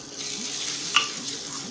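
Turmeric and coriander powder roast briefly in a pan for a dal dish, a soft steady sizzle with a faint scrape of stirring and one small clink.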